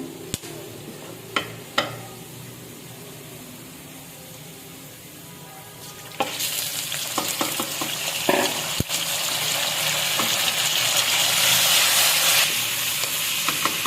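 Chicken browning with onion and cumin in a pot for a dal chicken dish: a few light clicks and taps at first, then a loud, steady sizzle breaks out and continues with occasional stirring scrapes.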